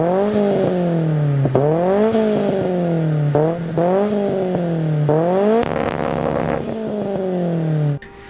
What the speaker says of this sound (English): So here is a clip of an SR20 Det powered Silvia.